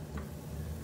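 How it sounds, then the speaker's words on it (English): Peppers frying in a tablespoon of olive oil in a pan, a brief soft crackling sizzle with a small clack near the start, quiet and close. "a little bit of olive oil into the pan. Just a drop, about a tablespoonful. Then I'm going to add in my peppers"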